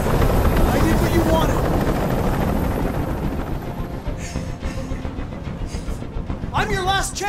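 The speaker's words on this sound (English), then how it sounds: "Can't stand that noise anymore! Tell that helicopter to get out of here!" Loud helicopter rotor thudding and engine roar in the video game Detroit: Become Human dominate at first, then fade somewhat as other game sounds and short bursts of noise come in near the end.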